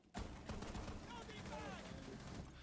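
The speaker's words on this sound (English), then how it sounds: "I shotgun a hole in the wall because my teammate asked for it" Shotgun blasting a hole through a wall in Rainbow Six Siege, one sharp loud blast followed by crumbling debris and a rattling, noisy game mix.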